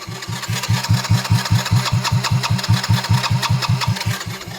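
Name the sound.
Honda Magna 50 motorcycle electric start attempt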